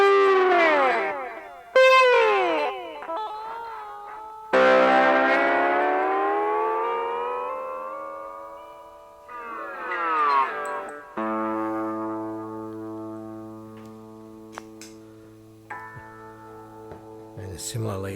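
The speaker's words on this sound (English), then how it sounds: "I quite like a combination of echo and distortion for slide guitar parts" Slide guitar run through echo and distortion pedals: gliding, wailing bends that swoop up and down, long sustained distorted notes with trailing repeats, then a steady held chord ringing out.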